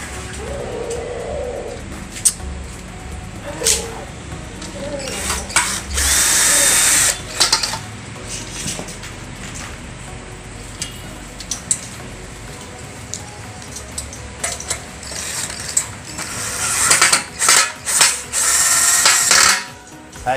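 Power drill driving 6x1 metal screws into an aluminium slide-up window frame, heard as several short whirring bursts, with longer louder runs near the middle and end, while pigeons coo in the background.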